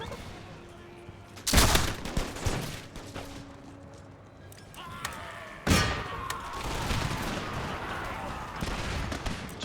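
Musket volleys ring out in an Empire: Total War mod battle, two loud crackling bursts of massed gunfire several seconds apart, with battlefield din and scattered shots between.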